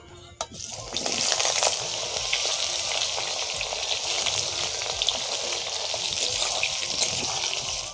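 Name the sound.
boiled jackfruit frying in a pan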